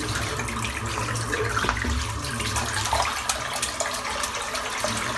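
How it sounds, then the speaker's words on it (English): Hot tap water runs steadily onto a shaving brush in a bathroom sink before a warm-water shave, a continuous close hiss and splash with small bubbling changes throughout. "I'm just going to run a little bit more hot water on it."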